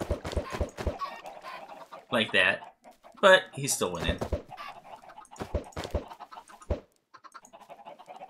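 Minecraft chickens cluck in short bursts, game sounds mixed under a man's near, continuous talking.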